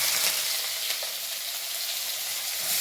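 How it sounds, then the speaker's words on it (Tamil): Mustard seeds and urad dal fry in hot oil for spicy poha, giving a steady, close sizzle with faint crackles throughout and no voices. "கடுகு பொட்டியாச்சு உளுந்து வந்து போட்டுக்கலாம்"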